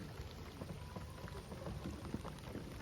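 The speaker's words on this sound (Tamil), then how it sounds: "இப்போ பார்த்தீங்கன்னா நல்லா மழை வருது, உங்களுக்கு தெரியுதா?" Rain falling at night during bioluminescence kayaking in Kumbalangi, Kochi: a steady, soft hiss of drops pattering on water and surfaces, with no voices.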